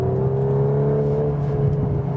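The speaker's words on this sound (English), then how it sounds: "Wow, exhaust cracking note once again." VW Golf 8 R accelerating on a damp road, a steady loud engine drone with strong low harmonics and a rising exhaust note heard from inside the car, without any speech.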